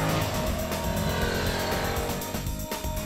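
A Suzuki SV650 motorcycle engine revs hard, its loud, close growl holding a strong pitch and then easing off near the end, with no talking.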